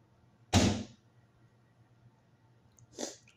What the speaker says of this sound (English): Okay, so my door just shut.